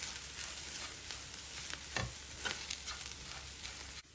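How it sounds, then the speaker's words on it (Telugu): Ground masala powder frying and being stirred with bitter gourd in a pan, a steady soft sizzle with a few louder stirring scrapes throughout, no talking. "దీనిలో ఇప్పుడు గ్రైండ్ చేసుకున్న మసాలా పొడి వేసి వేయించుకోవాలి"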